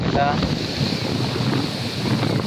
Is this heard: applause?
no